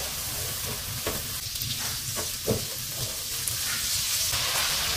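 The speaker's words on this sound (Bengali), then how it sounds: "বলক আসার পর্যন্ত হালকাভাবে নাড়তে হবে।" A spiced mango pickle mixture with garlic paste and mustard paste cooks in oil under a continuous, hissing sizzle. Soft stirring scrapes come through now and then.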